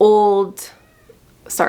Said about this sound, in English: if you guys hear Andy, he's like meowing next to me